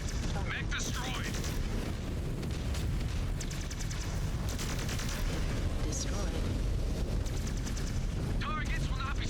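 A mech blowing apart in MechWarrior 5: Clans, heavy rumbling booms and crackling blasts running continuously through a dense, loud battle din, with faint radio-style chatter and mechanical whirs threaded over the top.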